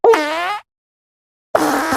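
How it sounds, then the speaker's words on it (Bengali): A cartoon fox lets out a loud, tonal fart lasting about half a second, then after a short silence a second, rougher and noisier fart begins. "এই পাদ কেন বারে বারে আসে আমি বুঝতাছি না"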